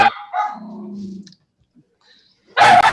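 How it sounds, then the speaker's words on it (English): A dog barks a couple of times nearby, with a drawn-out growly bark, then quiet before another loud burst of barking. "With that, Michelle, your dog's barking"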